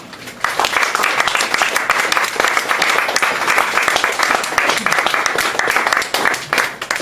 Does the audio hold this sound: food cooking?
no